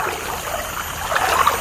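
A river flows steadily with a broad, rushing wash of water and brief brighter trickling splashes, close and fairly loud, with no voices.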